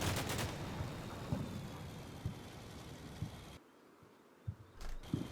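In the Cold War tactical video game Combat Mission, gunfire strikes a building: short, sharp bursts and single reports cracking over a noisy battle backdrop, followed by a quieter stretch broken by a few more shots.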